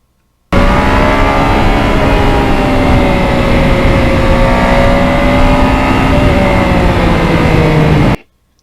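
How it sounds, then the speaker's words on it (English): A Yamaha MT-09 motorcycle ridden on roads toward a frozen lake area, engine note loud and steady with rising tone as it accelerates, passing through quick-shifter gear changes, continuous and close with rushing wind noise throughout. "I just never get sick of that quick shifter."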